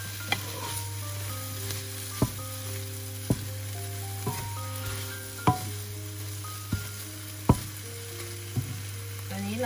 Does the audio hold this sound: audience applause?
no